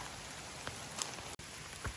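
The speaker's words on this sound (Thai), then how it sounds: "ฝนมา หนักมากเลยนะนั่นนะ" Heavy rain pours outdoors as a dense, constant roaring hiss of drops on surfaces, with a few louder splashes and a brief dropout, close and steady with no voices.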